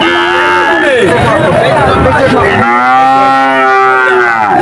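Calves at a cattle market in Shahpur moo loudly and close by, two long drawn-out calls one after the other, with faint crowd noise in the background.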